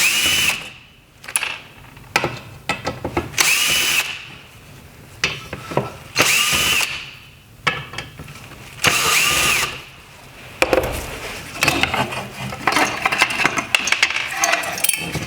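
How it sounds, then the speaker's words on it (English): A power screwdriver whirs in repeated short bursts while four screws are backed out of a 2014-2016 Toyota Corolla LED headlight, with small clinks and handling noises between the runs, close up and without talk. "And then from here, we can remove the 4 screws."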